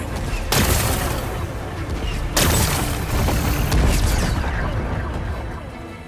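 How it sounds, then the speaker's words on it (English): A loud explosion in Horizon Forbidden West: two sharp, heavy blasts a couple of seconds apart, each followed by crackling debris and a long rumbling roar that slowly fades, with no talk. "It's exploding."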